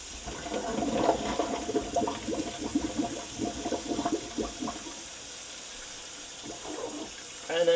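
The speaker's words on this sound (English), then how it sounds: "Run the cold water over the drain for a few seconds so you get a column of cold water" Cold water from a kitchen sink tap running over the drain, a soft, fairly faint splashing and trickling that fades away, then a brief louder burst at the very end.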